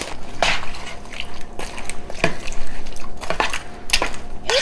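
A spoon scrapes and clinks against a bowl while a quiche mixture is stirred, giving irregular sharp taps and scrapes at close range with no talking.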